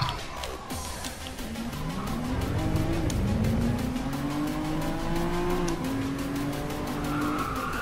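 In a racing video game, a car drifts with a sustained, rising and falling tire squeal over a steady engine drone, loud and close, after a brief clattering bump at the start.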